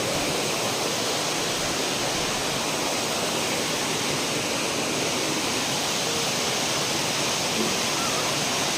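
River water at Gawahon Eco Park in Victoria City rushes in a steady, dense broadband roar like a small waterfall, continuous and loud throughout with no clear talk.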